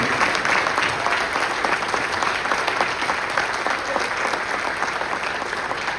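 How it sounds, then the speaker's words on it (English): Steady applause from a crowd, a dense continuous patter of clapping that holds at an even level throughout. "you should give him a round of applause for what he has done for this group"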